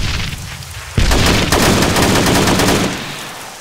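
Rapid bursts of automatic gunfire rattle loud and close in an Arma 3 airfield assault, a dense sustained volley of shots with no talk over it.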